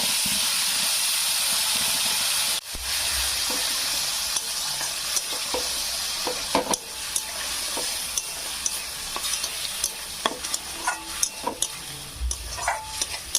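Ground spice paste frying in hot oil with dried red chilli, bay leaf and cumin, a steady hissing sizzle that jumps as the paste goes in, followed by irregular scraping stirs and clicks, with no voices.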